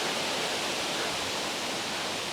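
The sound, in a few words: waterfall on Monk's Trail, Chiang Mai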